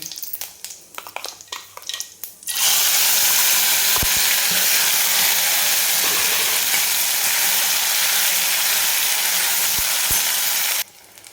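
Ground masala paste hits hot oil already crackling with cumin seeds, setting off a sudden loud, steady sizzle that roars nonstop for about eight seconds before it cuts away. Faint scrapes and clinks of stirring sound beneath it.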